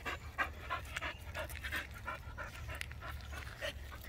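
Dogs panting steadily on a pack walk with several dogs, quick rhythmic breaths close by over faint outdoor background, no talking.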